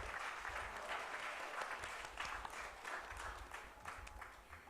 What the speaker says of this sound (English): I request you all to give a big round of applause for all of you